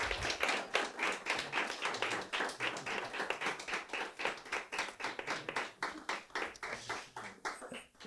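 An audience applauds an award winner at a research and creation prize ceremony, a dense burst of clapping that swells quickly and then thins toward the end, with no voices over it.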